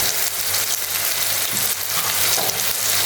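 Tomatoes with salt sauté in a hot pan for egg kheema, a loud, close, continuous sizzle with crackling spatters and the scrape of stirring, no talk.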